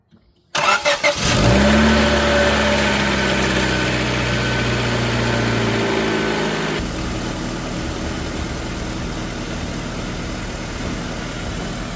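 A Honda Civic D-series engine is cranked over and catches, then settles into a loud, steady idle close by, with its tone shifting partway through; nobody speaks.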